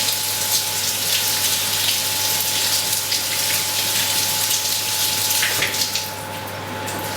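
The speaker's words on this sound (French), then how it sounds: "vous les passez sous l'eau avec la queue" Strawberries rinsed under a running kitchen tap, a steady, close and fairly loud rush of flowing water with a constant hiss that eases slightly near the end.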